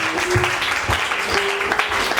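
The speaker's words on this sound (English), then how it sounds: "Put hands together for the church" Wedding guests at a Ghanaian church wedding clap together in a steady, dense round that fills the space, with little talking.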